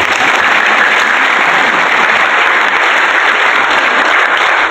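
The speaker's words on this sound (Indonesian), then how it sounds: "Kita beri tepuk tangan." An audience at a civic state toast evening in Bitung, North Sulawesi, applauds steadily, with dense, even clapping sustained throughout.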